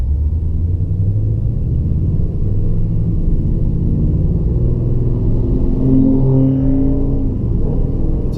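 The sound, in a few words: Toyota with TRD intake accelerating at full throttle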